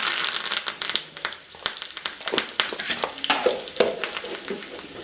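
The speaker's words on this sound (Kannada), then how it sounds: "ಈ ಎಣ್ಣೆ ಕಾದ್ಮೇಲೆ ಇದಕ್ಕೆ ಸ್ವಲ್ಪ ಕರಿಬೇವು ಆ್ಯಡ್ ಮಾಡಬೇಕು." Curry leaves crackle and spit as they hit hot oil, a busy run of sharp pops and crinkly bursts over a steady frying hiss, close and fairly loud throughout.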